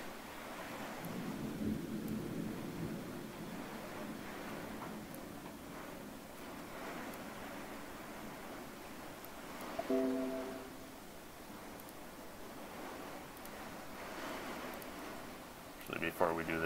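Heavy rain pours steadily through a thunderstorm, a broad continuous wash with low rumbles of thunder, while a person talks now and then over it.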